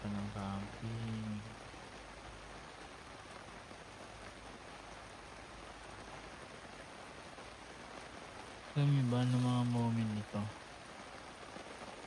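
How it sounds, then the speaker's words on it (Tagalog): Rain patters steadily at a campsite, a soft, even hiss of drops on surfaces throughout, with a person speaking briefly at the start and again near the end. "Pang nakakapag-almusal nito, umulan na."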